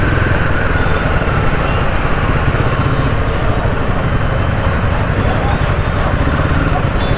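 A Royal Enfield Himalayan 450 motorcycle runs along a road, its engine droning loudly and steadily at a constant pace under rushing wind noise, with no let-up from start to finish.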